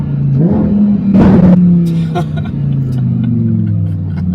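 A close, loud supercar engine surges in a short rev, then falls back to a steady droning hum.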